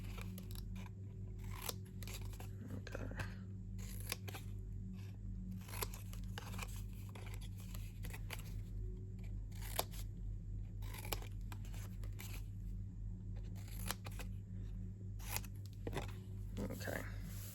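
Scissors miter-cutting paper tabs for a Halloween treat box, with a steady run of quick, close snips and crunches over a constant low hum, with a voice talking now and then.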